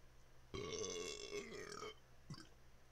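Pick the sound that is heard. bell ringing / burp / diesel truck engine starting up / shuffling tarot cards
burp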